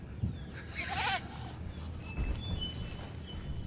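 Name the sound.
goat bleating in the video game Jurassic World Evolution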